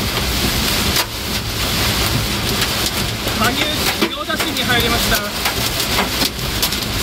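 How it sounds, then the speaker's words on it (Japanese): Heavy rain and hail pound a car windshield during a violent summer cloudburst with strong wind and thunder, driving from Hanyu into Gyoda, Saitama; a dense, continuous drumming roar fills the clip while someone talks over it. "バチバチとフロントガラスに打ち付ける雨と氷がものすごい音を立てております。"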